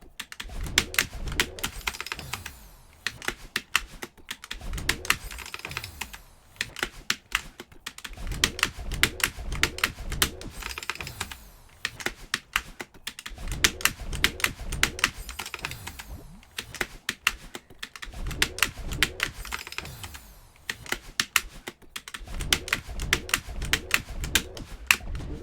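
Continuous rapid keystrokes on a computer keyboard, with dense clicky taps in bursts separated by brief pauses, steady and close, used for 1F tapping while playing Celeste.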